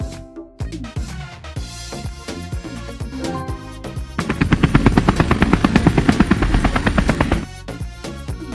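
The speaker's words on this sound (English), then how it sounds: "Helicopter." Loud helicopter with a rapid, steady rotor chop and turbine whine, pulsing strongly in the middle as it passes close, then easing slightly.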